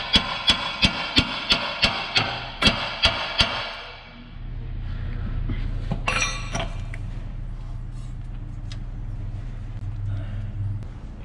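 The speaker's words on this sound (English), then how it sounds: "just tap it up with a hammer" A run of about a dozen sharp metallic hammer taps on a Ford Explorer ball joint in quick, steady rhythm, close and loud, then a lower mechanical hum with a brief clatter.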